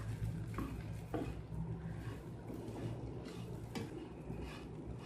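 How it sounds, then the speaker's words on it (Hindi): Slices of bread fry in hot desi ghee in a pan, giving a steady close sizzle with a few louder crackling bursts and light scraping, continuous throughout without talk. "हम इसके अंदर हम ब्रेड डालेंगे। बस 2 मिनट के लिए इसे फ्राई करना है।"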